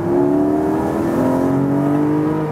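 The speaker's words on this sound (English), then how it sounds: "I have the exhaust in the loud mode right now when all the valves are opened, because you need to hear that." A Porsche 718 Spyder's six-cylinder engine with the exhaust valves open in loud mode, droning steadily and close at sustained revs, its tone slowly shifting under load with no voices.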